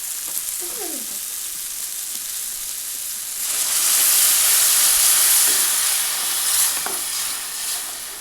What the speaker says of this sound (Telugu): ఉప్పు, కారం క్యారెట్ ముక్కలకు పట్టిన తర్వాత తగినన్ని నీళ్ళు వేస్తున్నాను.